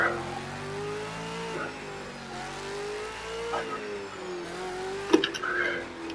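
V8 Supercar engine in Project CARS 2 at Long Beach, revving up and easing off repeatedly as it accelerates and brakes, with a brief tire chirp near the end; continuous and fairly loud.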